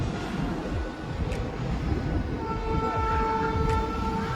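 A train crossing the Godavari river bridge at Rajahmundry, heard from a riverside room as a continuous rumbling roll with a sustained horn-like tone in the latter half.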